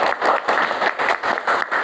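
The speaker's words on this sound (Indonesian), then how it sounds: "Tepuk tangan dulu untuk kita semua." Students in a third-grade classroom clap in rhythmic patterned bursts, a moderately loud group applause pulsing at a quick, steady beat.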